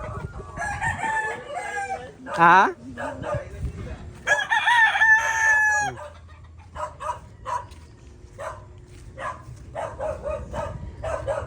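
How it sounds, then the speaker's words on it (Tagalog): Rooster crows loudly and close among clucking chickens in a Cabuyao City, Laguna barangay, with a dog barking in bursts and someone briefly speaking. "Di na rin mga manok na eh."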